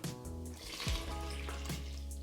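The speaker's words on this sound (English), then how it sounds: "And now to this I'm going to add warm water." Warm water trickles and pours into a bowl of bread flour, dry yeast, salt, olive oil and honey for flatbread dough, a quiet, close, steady stream.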